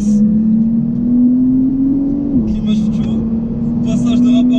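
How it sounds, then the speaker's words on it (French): A Porsche 911 of the 992 generation hums steadily at close range, its engine note stepping down once partway through as a quick gear shift goes by, while a person talks over it. "Passage de rapports d'ailleurs qui sont très rapides, vraiment ça passe très vite."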